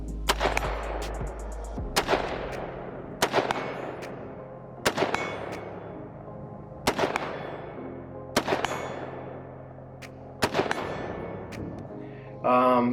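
Sharp, loud single shots from a Daniel Defense M4A1 rifle ring out roughly every one to two seconds, each followed by a long ringing decay, fired outdoors at a range.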